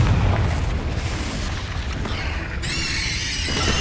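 A Confringo blast spell goes off in Hogwarts Legacy as a deep, rumbling boom that rolls on, followed by a bright crackling, sparkling burst later in the clip, loud and close.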